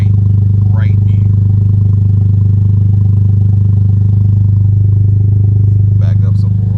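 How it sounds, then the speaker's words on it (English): A Toyota GR Corolla fitted with a 2J-Racing exhaust idles with a deep, steady, loud drone recorded close to the exhaust, and a few faint clicks and light noises sit on top. "the way this thing idles and the tone it has, it's a very deep tone"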